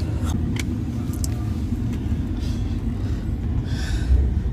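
A car drives along with a steady low road and engine rumble, heard from inside, with a few faint clicks and no talking.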